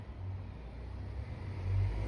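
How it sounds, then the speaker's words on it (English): A car passing on a nearby road, a low engine rumble that swells toward the end as it comes closer, steady and fairly quiet. "I'm just gonna wait for this car to pass."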